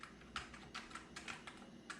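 Keys on an old Commodore Amiga 1200 computer keyboard are tapped in a quiet, irregular series of sharp clicks, about eight separate presses, faint and close, with no talking.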